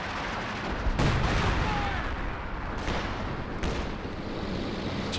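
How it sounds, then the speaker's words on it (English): Artillery fires in a Company of Heroes 2 1v1 match: a rumbling barrage of deep booms and crashes over continuous battle noise, with several louder impacts standing out. "Let's barrage a little bit deeper."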